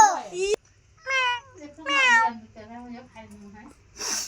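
Mother cat with a litter of three kittens at home, several drawn-out meows in a row, close and clear with quiet pauses between, ending in a breathy hiss-like sound.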